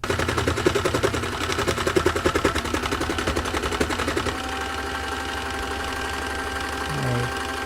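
A Cool Maker toy sewing machine stitches fabric for a ninja doll, rattling close by in a fast, steady chatter for about four seconds, then stopping. A low hum and a short voice follow.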